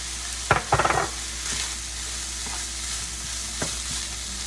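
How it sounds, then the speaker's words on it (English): Onion and mushrooms sauté in a pan with ground turkey, a steady close sizzle broken by a burst of utensil scrapes and clinks early on and a few lighter stirring knocks later. "we're going right in with the onion and the mushrooms"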